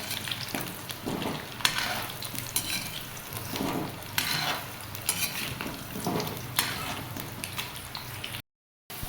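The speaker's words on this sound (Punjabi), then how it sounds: "ਦੇਖੋ ਜੀ ਆਪਣੇ ਆਵਲੇ ਨੇ ਫਰਾਈ ਹੋ ਚੁੱਕੇ ਨੇ" Amla (Indian gooseberries) fry in a pan with a soft, steady sizzle, broken by repeated scraping and clinking as a utensil stirs them close up, before a brief silent gap near the end.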